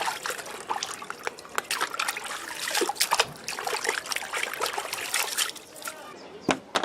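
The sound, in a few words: washing a coaster in running water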